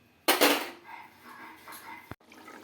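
A metal lid clanks down onto a cooking pot of fish curry with potato and kohlrabi, one sharp close impact followed by a brief rattle and quiet simmering.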